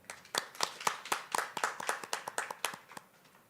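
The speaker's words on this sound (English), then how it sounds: "let's applaud our graduates" Graduates receive a short round of applause at a graduation ceremony: a small group claps in a quick, fairly steady rhythm for a few seconds, moderately close, then fades out.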